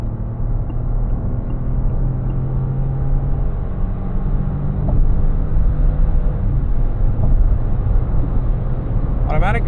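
A 2026 Peugeot 2008 Hybrid with a 1.2 MHEV 110 hp engine and six-speed e-DCS gearbox accelerates at full throttle at night. A steady, loud engine rumble and road drone fills the cabin for the whole stretch.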